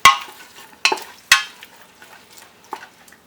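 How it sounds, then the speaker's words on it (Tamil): Onions are stirred in oil for biryani, with sharp spatula knocks against the pan in a loose rhythm over a faint, steady sizzle. "உப்பு எதுவும் சேர்க்காம தான் வந்து இந்த வெங்காயத்தை வந்து நம்ம எண்ணெயில் வதக்கணும்"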